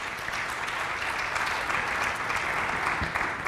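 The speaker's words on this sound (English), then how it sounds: "I want a round of applause for all of our top 10 students" Sustained applause from a high school audience at a top 10 students and military recognition ceremony, a dense steady wash of clapping from a large crowd in a hall, held at an even level throughout.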